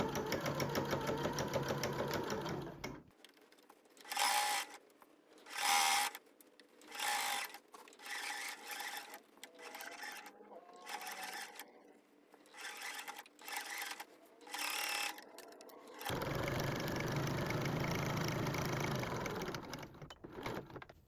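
A sewing machine stitches bias binding 2 mm from the edge on a baby's first-meal kit, running in repeated short bursts with pauses between, framed by louder, steadier stretches at the start and end.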